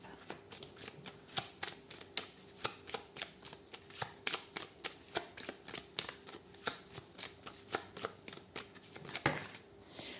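A 32-card deck of playing cards is shuffled by hand in a series of quick, regular, close slapping riffles that run evenly for about ten seconds.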